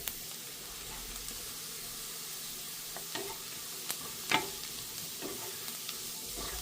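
Onion, curry leaves and carrot sautéing in a pan: a soft, steady sizzle with occasional light scrapes and clicks of stirring, faint and close.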